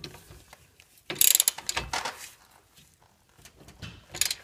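Ratchet tightening a 24 mm nut on a Ford Mustang caster/camber plate: bursts of quick mechanical clicking, loudest near the start and again briefly toward the end, with quieter gaps between and no talk.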